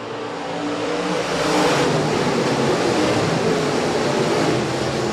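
USRA stock cars roar together at the green flag start of a feature race at Rapid Speedway, a loud, dense engine rumble that swells early and then holds steady as the field accelerates.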